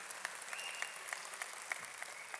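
Audience at a conversation event with Children's Commissioners breaking into sustained applause, many hands clapping at a moderate distance with sharper individual claps standing out in the steady wash.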